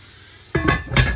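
Three ice cubes drop into a hot bread pot holding a malted wholegrain seeded loaf, giving two sharp, close bursts of hissing steam and clatter after a quiet start.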